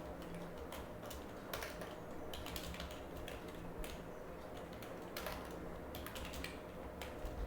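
Continuous clicking of typing on a computer keyboard during coding work, irregular bursts of quick keystrokes with short pauses, moderately close and alone without talk.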